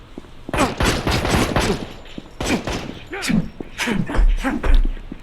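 Rapid gunfire from the video game Gangster Vegas, with repeated bursts of loud, close shots that come in clusters across the whole stretch and tail off in the final seconds.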